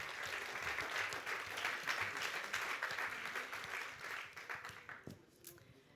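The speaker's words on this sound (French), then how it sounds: "Vous pouvez les applaudir," Audience in a hall applauds presenters at a French startup pitch event, a loud, sustained round of clapping that holds for several seconds before thinning out into scattered claps at the close.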